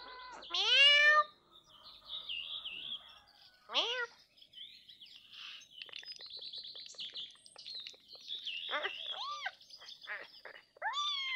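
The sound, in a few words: cat meowing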